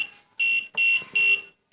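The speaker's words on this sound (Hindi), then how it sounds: "तो ऐसे बीप करते रहेगा ये" Note counting machine with a fake note detector beeping at a counterfeit banknote flagged with code EE2: four loud, shrill electronic beeps in a steady on-off pattern, each lasting about a third of a second, alone.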